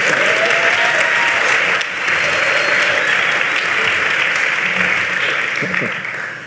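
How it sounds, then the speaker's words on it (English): An audience at an evening honors event breaks into loud, sustained applause, a dense wash of many clapping hands that stays steady throughout and dips only briefly, close and filling the room. "You can clap."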